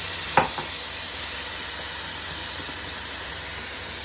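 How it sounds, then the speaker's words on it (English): Lo mein noodles with soy sizzle and hiss steadily in a hot pan, with a brief clatter of stirring early on and no talking. "Give that a good stir."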